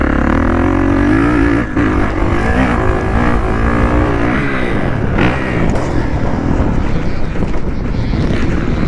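Old Suzuki dirt bike on a motocross track, its engine roaring loud and rough through a big jump, heavily buffeted by wind noise with steady revving throughout.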